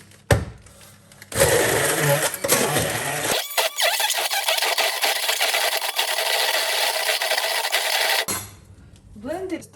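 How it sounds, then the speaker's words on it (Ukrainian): A blender chopping lemons whirs loudly for several seconds, its grinding roar rising abruptly and then cutting off, with brief noises before and after. "і подрібнюємо в блендері"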